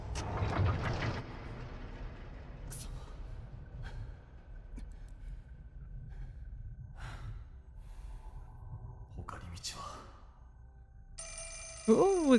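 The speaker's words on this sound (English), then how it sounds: "we got to answer the phone." A telephone rings in the PS5 horror game Project Zero: Mask of the Lunar Eclipse. Quiet, dim ambience comes first, then a loud electronic ring bursts in near the end.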